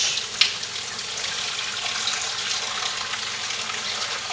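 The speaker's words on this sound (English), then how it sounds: "I'm going to fill up my sink." Tap water gushing steadily into a kitchen sink with dish soap and bleach added for cleaning, a continuous hiss with a faint clink near the start.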